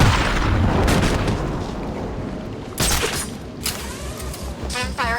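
Rapid bursts of gunfire from the Batman: Arkham City video game, loud and continuous, with sharp cracks and booms layered over a dense roar of shooting.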